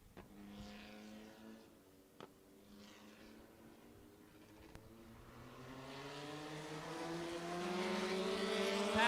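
A pavement midget race car running at Indianapolis Raceway Park, its engine note climbing steadily as it nears and grows louder, heard from a distance at first with a faint background hum.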